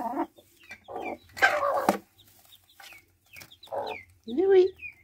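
A hen clucks in short, sharp bursts, defensive as another hen approaches near her newly hatched chicks, with several loud close calls in an uneven rhythm and brief quiet gaps between them.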